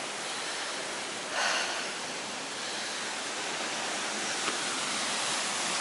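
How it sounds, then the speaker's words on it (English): Fast-flowing stream water on the Slaughterhouse Combe walk at the Stream of Hodders, a steady broadband rushing roar close by that fills the whole clip, with no speech. "And there's the water going down, look."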